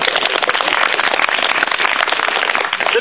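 An audience at an Olympic National Park ranger presentation applauds for about three seconds, a dense and steady wash of many hands clapping at once.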